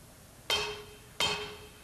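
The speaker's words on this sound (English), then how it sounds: "Lightly tap the valve stem top with a plastic-faced hammer to ensure a proper fit." A plastic-faced hammer taps twice on the top of a valve stem in a Toyota 4A-F Corolla AE cylinder head during an engine overhaul. The two crisp, close knocks come about 0.7 seconds apart, each ringing briefly over a quiet background.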